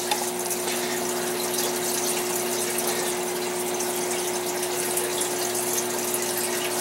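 Water poured onto dry garden soil to settle a newly planted plant, a steady continuous gushing and trickling close by, with a faint constant hum underneath and no talk.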